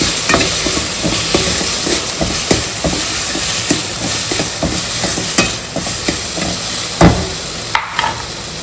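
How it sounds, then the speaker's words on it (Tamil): Sliced medium tomatoes with a little salt sauté in a hot pan, giving a continuous close sizzle broken by repeated scraping stirs of a spoon. "2 மீடியம் சைஸ் தக்காளி வந்து நீட்டாக கட் பண்ணி இது கூட சேர்த்து நல்லா வதக்கணுங்க"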